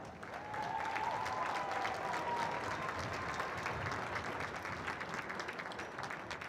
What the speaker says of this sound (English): please join me in giving these 3 girls a round of applause for their hard work and dedication